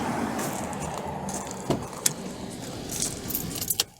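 Keys jangle near the ignition of a 2012 Kia Ceed as its engine is switched off, leaving a steady low background with a few sharp metallic clinks scattered through the latter half.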